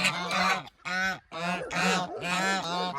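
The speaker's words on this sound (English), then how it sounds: "the geese just came to destroy everything" Geese honk loudly and close in a rapid run of harsh repeated calls, several birds overlapping with only brief gaps.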